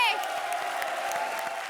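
On the Comedy Circus set, a studio audience claps and cheers in a short, steady burst over light background music.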